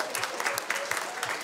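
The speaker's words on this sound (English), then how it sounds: "a big round of applause for Green MP, Julianne Genter." Studio audience on a TV talk show claps to welcome a guest Green MP, a lively burst of applause with distinct individual claps popping out and some voices mixed in.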